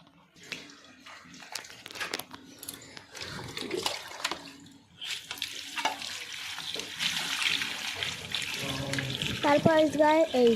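Sliced potatoes for homemade chips are rinsed under a running tap in a sink, with water splashing and gurgling, handling clatters, and a rising pitched tone near the end.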